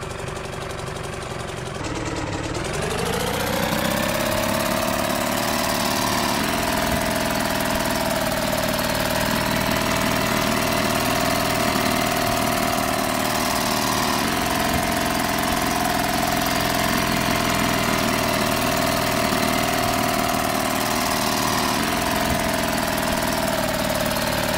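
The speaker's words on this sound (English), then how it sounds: "Engine." An old-style boat engine in the video game Martha is Dead starts up and settles into a steady, loud, rumbling idle with faint knocking, continuous and close with no talk.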